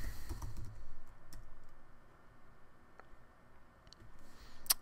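A computer keyboard clicks quietly up close as a folder name is typed, with a short run of keystrokes at the start and a few scattered taps after, in a quiet room with no talk.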